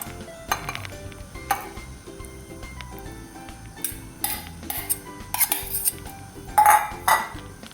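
Beef pieces for beef 65 stirred into batter in a bowl, with repeated clinks and scrapes of a utensil against the dish, irregular and close, with no talk.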